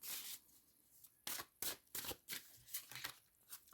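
Tarot cards being shuffled by hand, a run of crisp riffling bursts and soft slaps in quick, uneven rhythm, close and fairly quiet with no talking.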